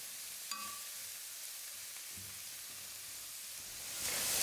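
Vegetables sizzle in a kadai while cooking for street-style egg fried rice, a steady hissing fry with a brief clink near the start and the sizzle swelling louder at the end.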